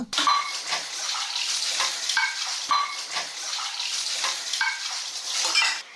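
Pots and pans being washed at a sink, with continuous running water splashing and repeated clinks and scrapes of metal vessels close by, no talking.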